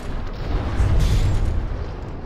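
Heavy, muffled booming explosions roll together during a naval battle in the game From the Depths, a thick low rumble swelling and fading over about two seconds.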